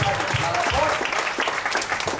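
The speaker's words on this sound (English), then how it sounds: "Yes, another round of applause." A comedy night crowd in Ubud, Bali claps and cheers in a dense, loud burst of applause that runs throughout, with voices mixed into the noise.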